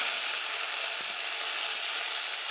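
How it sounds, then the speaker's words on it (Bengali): Stuffed ash gourd leaves fry in a pan over low heat, giving a steady, close hiss of sizzling oil that runs unbroken with no talk. "প্রতিটা পাতার মধ্যে এভাবে পুর দিয়ে এক এক করে ভেজে নেব।"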